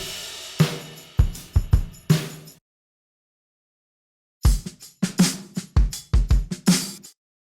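Virtual drummer in Logic Pro playing a punchy drum beat, with crisp kick, snare and cymbal hits in two bursts separated by a few seconds of silence, close and loud with no talking.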